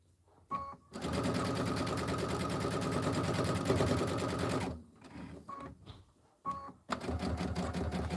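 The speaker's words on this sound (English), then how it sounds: "Let the machine do the work for you. I'm just going to sew right off." A domestic sewing machine stitches fabric in a long, loud, steady run of rapid needle strokes, pausing briefly, starting again in a short burst and then resuming its continuous whirring stitching toward the end.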